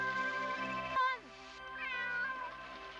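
A cat meows in a movie scene, a loud, drawn-out meow followed by a second rising cry, with music or background tones beneath.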